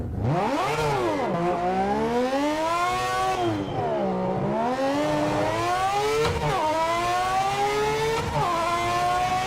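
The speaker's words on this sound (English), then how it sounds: "If you think this car doesn't sound good, you are not my people" A GT3 race car engine in Project Motor Racing revs loudly and close, rising through the gears in repeated sweeping climbs with abrupt drops at each shift, over about nine seconds.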